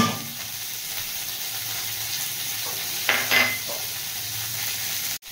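Cauliflower fries in a pan for a vegetarian khichdi, giving a soft, steady sizzle with a few stirring scrapes partway through and a sharp knock at the end; the sizzle stays fairly quiet and continuous.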